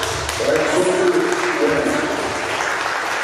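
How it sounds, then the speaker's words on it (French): Audience applauding in a hall at a fiftieth-anniversary celebration, a steady broadband wash of clapping that holds level for a few seconds, with a voice faintly audible underneath. "est-ce qu'on peut applaudir déjà?"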